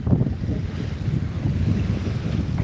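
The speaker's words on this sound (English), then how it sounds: "I do apologize about the wind." Steady, loud wind buffeting a microphone at Lake Erie, Port Clinton, Ohio, producing a rumbling, muffled roar that continues without a break.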